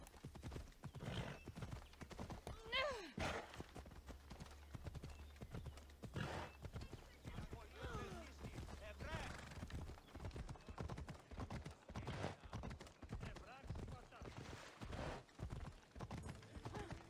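Horse hooves clip-clop steadily at a gallop with a neigh near the start, from the Assassin's Creed Odyssey video game, the hoofbeats continuing throughout at moderate loudness against game background sound.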